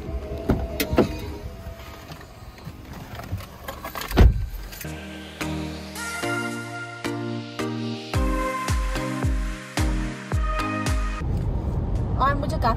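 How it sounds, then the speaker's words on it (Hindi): A car starting out after sitting unused through a long lockdown, with power-window whirs, door and mechanical clunks, and engine rumble running steadily near the microphone. "सदियों बाद मेरी गाड़ी निकल रही है, लॉकडाउन में हिली भी नहीं थी।"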